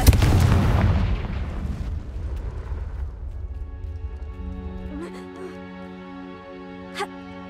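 A Confringo blasting spell in the video game Hogwarts Legacy erupts as a loud, rumbling explosion that slowly decays over several seconds, leaving steady tonal background music.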